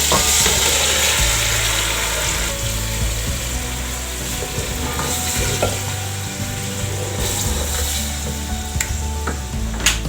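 Chicken with ginger garlic paste fries in oil for achar gosht, producing a steady loud sizzle over a low rumble, with occasional scraping stirs and a few sharp clicks; no talking.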